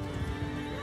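Horses in Mount & Blade II: Bannerlord battle, a short whinny over hoof clip-clop and steady battlefield din.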